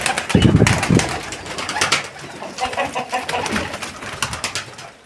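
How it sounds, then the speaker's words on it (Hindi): Pigeons coo in soft, rolling calls nearby, with some rustling and fluttering at the start and no speech. "बाकी ये तमाम कबूतर हैं"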